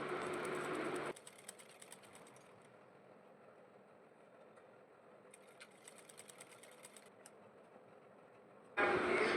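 A sewing machine stitches the seams of a small baby kurta, running in a steady mechanical whir with short bursts at the start and end, a quieter hum between them, and no talking.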